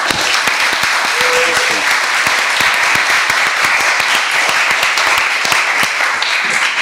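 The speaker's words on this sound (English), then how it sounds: "I absolutely do want to give them a round of applause" Loud, dense applause fills a city ways and means meeting room, steady sustained clapping from a large crowd for several seconds, with voices mixed in underneath.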